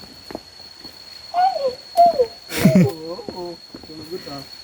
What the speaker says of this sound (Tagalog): Iba't ibang huni ng ibon yung naririnig nyo, no?